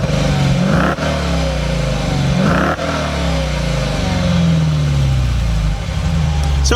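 A 2016 Dodge Challenger R/T V8 revs loudly nearby through its factory exhaust, with two sharp throttle blips followed by a longer rising rev and a deep rumbling idle.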